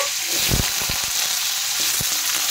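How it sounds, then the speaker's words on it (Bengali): Potatoes and cauliflower sizzling in hot oil in a pan, a steady hiss with a few soft knocks as the pieces are stirred, no voices. "এখন আমি আলু আর ফুলকপিগুলো একটু ভেজে নেব।"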